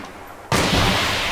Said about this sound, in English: he's gonna shoot him without actually seeing him